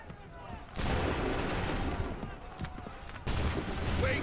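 A musket volley in Assassin's Creed 3, with loud bursts of gunfire that hit at about one second and again near three and a half seconds, rolling over a noisy battlefield with voices in the background.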